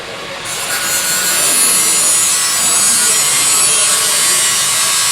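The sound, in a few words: grinder cutting slits in Model T coupe body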